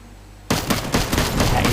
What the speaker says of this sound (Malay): Itu dia Fang membuat tembakan di sini.